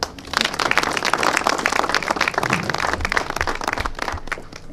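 A crowd at a handover of a new fire engine breaks into lively applause, dense rapid clapping that swells quickly and stays loud for several seconds before easing slightly.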